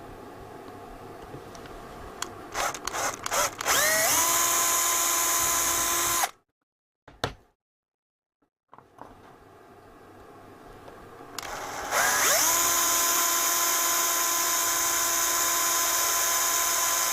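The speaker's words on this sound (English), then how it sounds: "So the plan is to drill just behind the leg." An electric drill bores a hole just behind the leg of a Bush DAC10 cabinet. The steady high whine starts after a few short bursts, cuts out, then whirs up again, loud and close.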